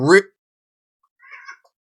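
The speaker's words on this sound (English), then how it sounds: "what are you meowing at back there?" A house cat meows once in the background, a faint, short call about a second after a brief voice cuts off, heard in an otherwise quiet room during an online debate.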